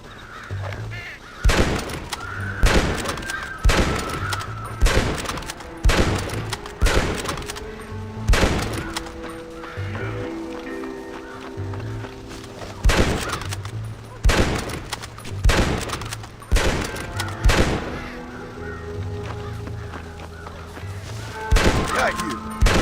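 Gunfire in the Western video game Red Dead Redemption: a string of loud, sharp shots cracks out at irregular intervals across the stretch, with crowlike squawks and game sounds in between.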